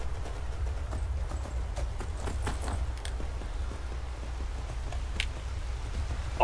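Rhythmic horse hoofbeats in Skyrim clop along steadily at a quick pace, fairly soft against a low background hum, with a brief jolt near the end.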